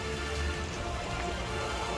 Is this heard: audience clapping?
no